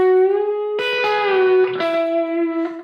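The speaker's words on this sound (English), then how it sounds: "what kind of gives it that cool steel country guitar sound is the fact that those notes are ringing out together" Country guitar lick played on electric guitar, with a bent note released and resolving to an E while notes ring together for a steel-guitar feel; clear sustained harmonic tones, close and alone with no talking.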